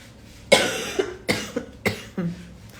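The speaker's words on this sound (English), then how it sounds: "let's see if I can keep this cough in check" A person coughs four times in quick succession, each cough sharp and close, with short pauses between them and no talking.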